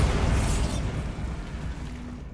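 Bombarda spell explosion in the video game Hogwarts Legacy: a loud, deep booming blast at the start that rumbles and slowly fades away over a couple of seconds.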